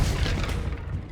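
A Depulso force spell cast in the Hogwarts Legacy game, a loud, dense low boom that stays heavy through the whole short burst and ends with a brief sharp crackle.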